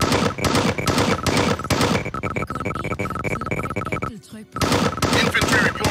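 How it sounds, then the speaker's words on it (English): Dense rapid gunfire and explosions from a real-time strategy video game battle, loud bursts of automatic fire layered with crashes and unit voice lines, with a brief gap before the shooting resumes. "I'm taking heavy fire."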